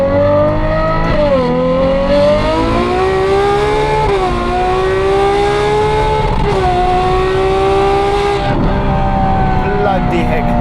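Ferrari 812 fitted with a Novitec N-Largo exhaust accelerating hard through the gears on roads in Johannesburg, a loud continuous engine wail rising in pitch with several quick upshifts, heard from up close.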